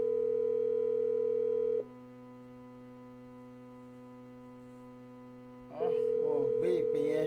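Telephone call tone ringing out unanswered, a steady electronic tone that drops quieter midway, then voices begin talking over it near the end.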